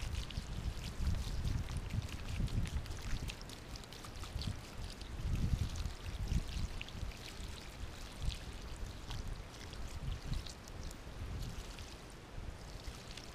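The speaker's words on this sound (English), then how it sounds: "I'm gonna pour some orange oil on it." Orange oil poured from a gallon jug onto a fire ant mound in a garden box, a steady splashing, gurgling stream that runs continuously at close range with no talk.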